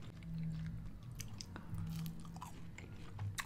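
A vegan sandwich dipped in sauce is chewed close to the mic, with soft, wet, continuous mouth sounds and a few crunchy bites.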